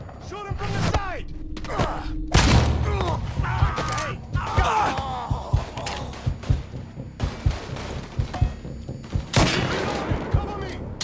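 A shootout in the Mafia 3 video game brings loud, close bursts of gunfire in irregular volleys, with sharp repeated shots and men yelling between them.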